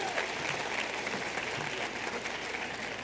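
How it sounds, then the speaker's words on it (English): A commencement audience applauds the keynote speaker, dense steady clapping filling the hall at moderate level, sustained throughout with no voices over it. "Could we applaud our fabulous keynote speaker?"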